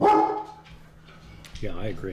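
A dog barks indoors in a couple of short, close bursts at the start and again near the end, with a person speaking in between.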